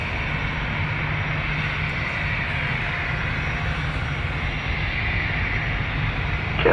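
A Boeing 777-300 jet airliner from Delhi at Toronto Pearson airport, a continuous broad engine roar held at a steady level from start to end, distant rather than close, with no talking.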